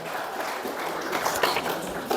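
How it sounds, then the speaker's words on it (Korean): Audience applause at a book launch event, a steady wash of clapping from a seated crowd that holds even for a couple of seconds with a few louder claps near the end. "자, 뜨거운 박수 부탁드리겠습니다."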